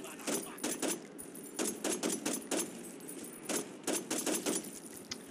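Bursts of video-game gunfire from Saints Row 2, several short rapid volleys separated by brief gaps, crisp and fairly close, with a voice talking in between.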